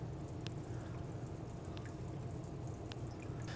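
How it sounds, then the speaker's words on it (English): Cold tap water running into a bowl and flushing through a sausage casing for homemade hot links, a steady low rush with occasional faint drips, quiet and close, no talking. "You want to get yourself a bowl with some cold water running in there."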